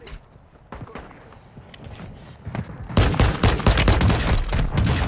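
Video game gunfire crackles in rapid bursts, starting sparse and distant and then becoming a loud, dense fusillade of close shots in the second half, with no clear talk.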